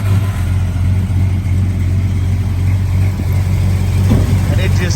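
A 1970 Dodge Super Bee with a 383 engine and 4-speed manual idles in a low, steady, even rumble that holds at a constant level throughout.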